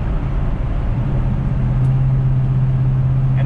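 A 1970 Plymouth 'Cuda 340 muscle car drives along, its engine and road noise forming a loud, steady drone heard from inside the cabin.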